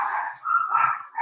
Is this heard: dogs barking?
yes